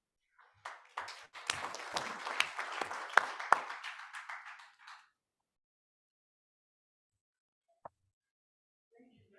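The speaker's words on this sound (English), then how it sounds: "I think she deserves another round of applause." Applause from a training-week audience on qualifications and mutual trust, a burst of many clapping hands lasting about four seconds before fading to silence, with a faint isolated tap afterward.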